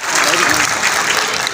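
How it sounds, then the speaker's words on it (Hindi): Applause for Saeed Baba Sahab rises as a dense, loud wash of clapping with some speech mixed in throughout. "सईद बाबा साहब के लिए बहुत सारी तालियां"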